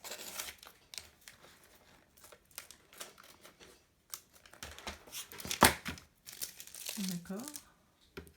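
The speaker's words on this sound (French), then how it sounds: "Donc on va le découper." Paper being cut out with scissors for a handmade travel notebook, with close crisp snips and crinkling paper handling in bursts, and a short voice sound near the end.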